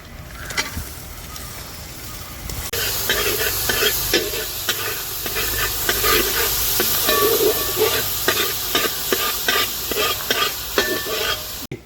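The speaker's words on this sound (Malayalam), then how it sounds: "നമുക്ക് ചെറുതാക്കി അറിഞ്ഞ തക്കാളി കൂടി ഇടാം" Onions and chopped tomato sautéing in a pan for a Kozhikode-style squid dish, a loud continuous sizzle and hiss with rapid repeated scraping stir strokes throughout.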